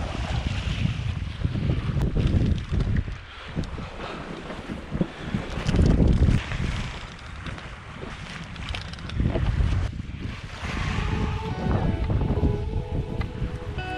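Strong wind gusting across a sailboat under staysail in chilly, blustery New England waters, loud buffeting that swells and eases in waves, mixed with water rushing along the hull.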